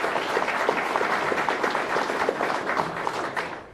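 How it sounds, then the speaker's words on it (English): Steady applause from a crowd at a presidential candidates forum, dense clapping that holds at an even level throughout without a break. "Everyone, please give them a round of applause."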